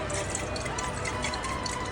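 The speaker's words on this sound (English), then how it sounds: "Now I'm gonna take the water that I used to rinse the filter, and I'm gonna swirl it around in the CHEMEX" Hot rinse water swirled around inside a glass CHEMEX coffee maker, a steady close sloshing and trickling wash with no talk over it.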